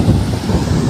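Strong wind buffets the microphone at the seashore, a dense low roar with surf blended in, loud and steady throughout the second, no voices.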